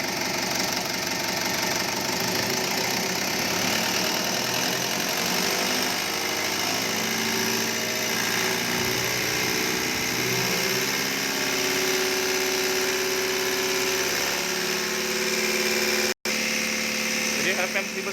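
Komatsu 4D102 diesel engine running on an injection pump test bench, a loud steady drone with a knocking rhythm, close and continuous except for a brief dropout near the end, with a voice talking over it.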